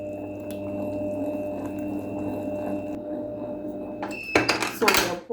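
Cake batter for a coconut cake is mixed in a bowl on low speed, a soft steady whir with faint tonal hum, ending in a burst of clattering and scraping against the bowl.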